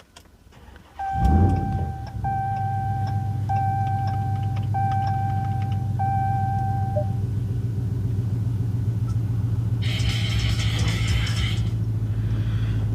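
A Ram TRX pickup, tuned to 800 horsepower, starts up with chimes sounding as the engine cranks, then settles into a loud, steady low idle rumble that continues throughout, alone without talk.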